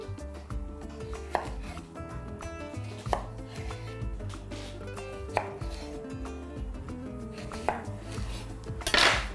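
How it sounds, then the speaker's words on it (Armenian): A knife chops zucchini into sticks on a cutting board, with a steady series of crisp, close knocks and a louder clatter near the end. "Եվ կտրատում ենք ձողիկների"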